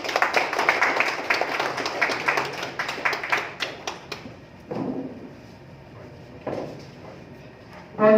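An audience at an evening community award ceremony claps loudly in a dense burst that thins to scattered claps and fades.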